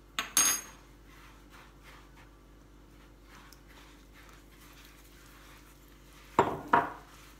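Metal utensil clinks against a bowl while butter and oil are mixed for mini harcha, two short bursts of scraping and tapping at the start and end with quiet room tone between.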